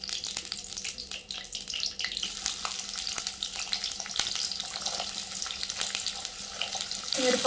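Onions and green chillies fry in a pan for a prawn and gongura curry, a steady close hiss and sizzle that holds throughout with faint stirring scrapes and no speech.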